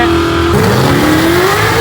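A Dodge Hellcat launches off the line in a drag race, its loud engine note climbing steadily in pitch as it accelerates hard, heard up close and alone.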